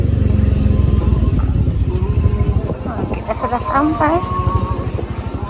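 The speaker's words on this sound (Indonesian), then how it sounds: "Kita parkir motor dulu." A motorcycle rides up and pulls into parking at Cicalengka Dreamland near Bandung, its engine rumbling close and loud before settling toward idle while people talk over it.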